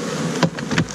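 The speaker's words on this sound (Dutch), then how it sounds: "Er zijn de bijtjes mooi binnen." Honeybees buzz steadily at an open hive during spring inspection, a dense close hum with a few louder passes as individual bees fly near.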